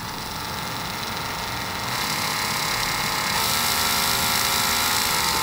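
A Bosch cordless drill runs at slow speed with a steady, tonal motor whine that holds close and fairly loud, stepping up slightly in pitch and intensity partway through, with no talking.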